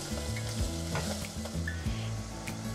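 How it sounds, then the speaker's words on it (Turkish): Onion and flour sauté in a pan for red lentil soup, a close, steady sizzle broken by brisk stirring scrapes. "Unun kokusu çıkana kadar tekrar kavuruyorum."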